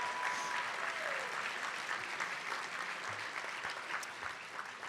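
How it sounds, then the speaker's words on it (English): A crowd at a Boys and Girls Club Youth of the Year ceremony gives Mo a round of applause, a steady, even wash of clapping from many hands lasting throughout, moderately loud. "How about another round of applause for Mo?"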